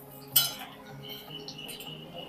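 Spinach and onion bhaji frying in hot oil are stirred in a pan with a metal utensil: one sharp clink, then lighter scraping and soft sizzling, close and fairly quiet, with no talk.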